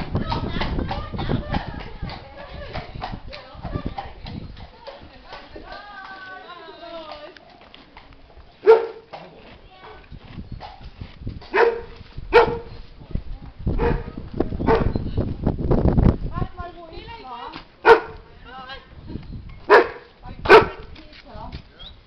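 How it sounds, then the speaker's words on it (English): A fluffy dog barks in short, sharp bursts outdoors on a cold day near horses in Dover, the barks standing out loudly through the second half over wind and background noise, with people talking earlier. "look at the fluffy dog"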